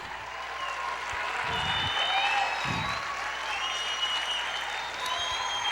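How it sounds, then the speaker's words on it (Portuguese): A church congregation claps and applauds together in a steady, dense wash of hands that holds for several seconds, mid-distance and moderately loud, with faint voices mixed in. "Aplauda o Senhor, glorifique."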